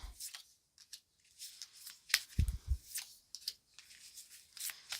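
Tarot cards are shuffled by hand in short, dry bursts of riffling and soft slaps, separated by quiet gaps. The sound is close and moderately faint.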